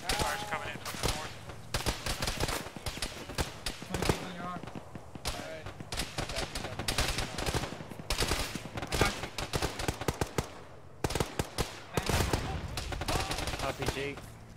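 Incoming gunfire rattles through an Arma battle in a ShackTac session, dense bursts of rifle and machine-gun shots cracking repeatedly from nearby and farther off, with brief pauses between volleys.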